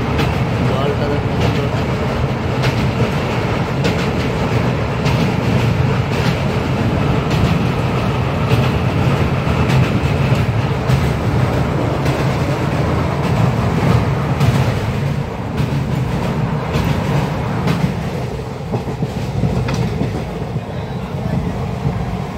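Train 12129 Pune–Howrah rumbles into Howrah across the Ganges, a loud continuous rolling roar heard from on board with rhythmic wheel clatter on the tracks, while someone talks over it.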